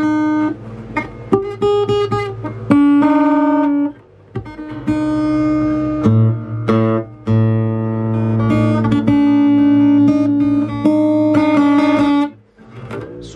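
Electric guitar strummed and plucked through a JBL PartyBox On The Go portable speaker, with ringing chords, a couple of brief pauses, and sustained notes.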